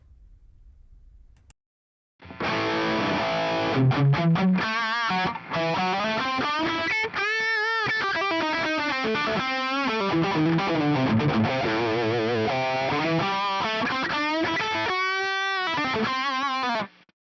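A dry electric guitar plays alone, a loud melodic line with bends and slides, the notes ringing and changing pitch throughout.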